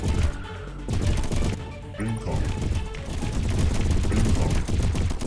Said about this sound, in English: every time the cannon turrets fire, they are just wiping out the smaller hostiles in this blast radius.